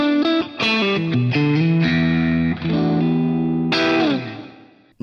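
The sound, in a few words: electric guitar glassy breakup tone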